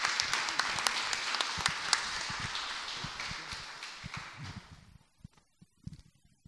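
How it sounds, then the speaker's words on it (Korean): A church congregation at a Korean Sunday service applauding the pastor, with dense, steady clapping that fades out after several seconds and leaves a few scattered claps. "우리 목사님 나오실 때 뜨거운 박수로 맞이하겠습니다"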